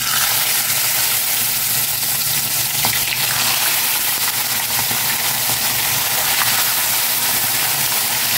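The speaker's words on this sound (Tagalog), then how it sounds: "Prito ko naman na itong hasa-hasa." Steady, loud sizzling of hasa-hasa fish frying in hot oil in a pan, a continuous crackling hiss close by with no talking.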